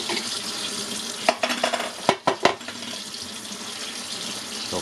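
Water splashes and sloshes while a film developing tank is rinsed, with a few sharp clanks and knocks of the tank in the middle, running steadily underneath.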